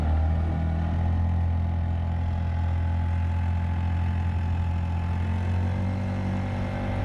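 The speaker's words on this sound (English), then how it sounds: "I'm gonna bring this motor up, see what happens." Small 50cc KB V3 outboard drive motor on a Crescent K-Craft boat runs steadily at elevated revs, a loud, continuous droning hum with no talk.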